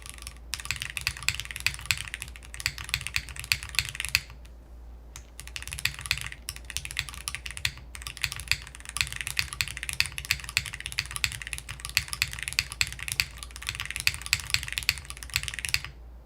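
Rapid typing on a mechanical keyboard fitted with Kaidi springs and a polycarbonate plate, resting on a desk pad: dense, close clacking keystrokes in quick bursts, with brief pauses, and no voices.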